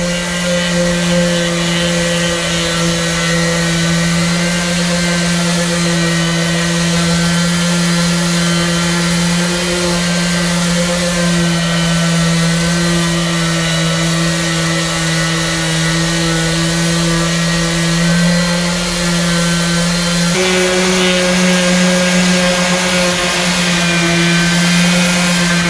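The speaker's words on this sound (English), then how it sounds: "this is regular cheapy Home Depot sander" A cheap Home Depot electric sander runs continuously for the whole stretch, a loud, steady droning hum up close whose pitch dips slightly near the end, with no talking.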